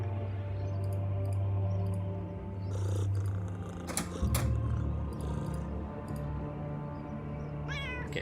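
Cat in the video game UnderRail, a low steady purr under meows that come and go, with a sharp clack partway through and a final rising meow near the end.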